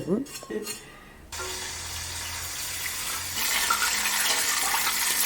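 Water pours into a pot holding a pig head set for braising, a steady rush that starts after a few clattering knocks and swells louder toward the end.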